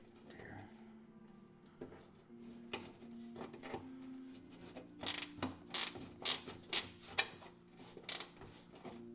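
A wrench ratchets on a Datsun 280zx, a quiet run of mechanical clicks that turns into a regular series of sharp, close ratcheting strokes in the second half, with no talking.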